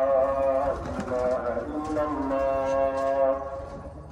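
A man calls in flying pigeons during a pigeon-keeping session, a long sustained tonal call with steady harmonics that rises and falls over about four seconds, with faint outdoor background.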